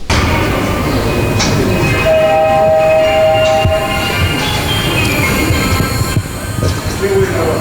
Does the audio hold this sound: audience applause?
no